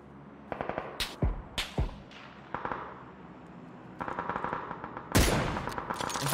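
Bursts of automatic gunfire and sharp single shots in a PUBG match, close and loud, with rapid rattling strings and heavy individual cracks, ending in a sustained volley.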